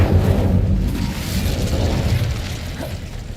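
Incendio fire spell cast in the Hogwarts Legacy video game, a loud sustained roaring whoosh of flame with heavy low rumble that holds steady for several seconds.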